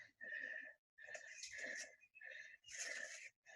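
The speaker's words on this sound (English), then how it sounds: "You hear me breathing there." A person breathes hard and heavily in four close, raspy, wheezing cycles of inhaling and exhaling, loud and near, while pushing through a dense alder thicket outdoors.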